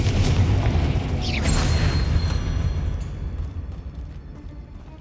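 A fiery Confringo blast spell in Hogwarts Legacy bursts with a loud, booming explosion, then rolls into a crackling rumble that slowly fades over several seconds.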